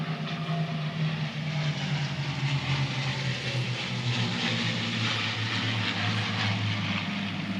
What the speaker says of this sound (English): we got to wait for the planes to come over